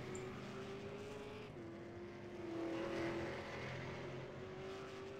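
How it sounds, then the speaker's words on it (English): A race car runs down pit road at Canadian Tire Motorsports Park, a steady engine drone that rises and falls in pitch as it passes at moderate distance, with no talk. "Looks like we have one car coming down pit road right now."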